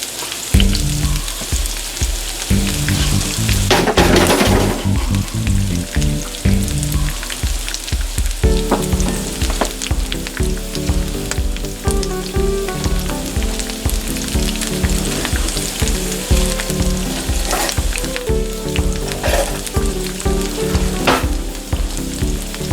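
Celery, carrots and cabbage stir-fry in a hot pan for chicken chow mein, a loud, steady sizzle running throughout with scraping stirs and clatter layered over it, no voices.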